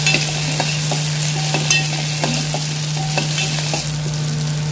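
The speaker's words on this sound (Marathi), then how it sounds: "आपण कच्चा बटाटा घेतला आहे त्याच्यामुळे आपण आधी बटाटा शिजवून घेणार आहोत" Raw potatoes frying in a pan, a loud continuous sizzle under a steady hum, broken by repeated scraping strokes of a spoon stirring them, with no one talking.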